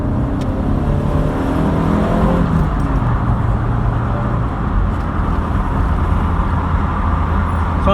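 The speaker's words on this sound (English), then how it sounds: "Let's do a little overtake manoeuvre in a second, when I can." A 1986 Vauxhall Cavalier Mk2 accelerates hard to overtake slow trucks, the engine note climbing through the revs and shifting gear, loud and continuous from inside the car, with road noise beneath and no talk.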